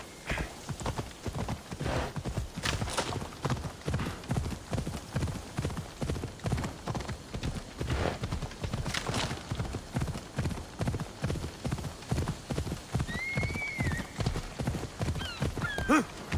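Steady, close hoofbeats clip-clop in an even galloping rhythm as a horse is ridden in the ancient Greek video game Assassin's Creed Odyssey, with a brief whinny partway through and no talk over it.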